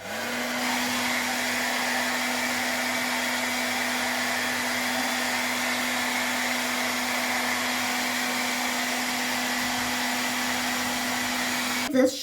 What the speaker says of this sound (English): So I'm going to go to the hair dryer.